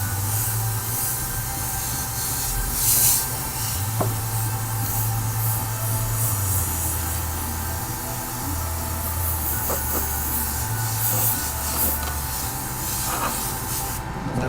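Airbrush hissing steadily as it sprays a second coat of pearl paint onto an RC car body, a continuous close airy spray with a low compressor hum running underneath throughout.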